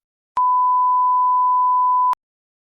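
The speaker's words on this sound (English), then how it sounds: "There was no one on the other end, but only this long, noisy tone." A single long, steady telephone tone, a pure beep held for nearly two seconds with sharp clicks at its start and end, loud and alone.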